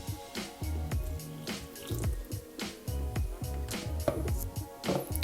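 Water poured into flour and yeast for bread dough, a continuous splashing trickle with bubbling, moderately loud and alone.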